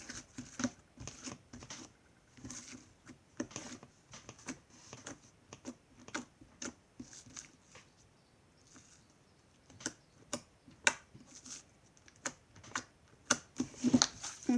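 Homemade slime mixed with boric acid being squished and handled, giving a steady run of sharp, wet clicks and pops, fairly close and moderate in level, with no speech.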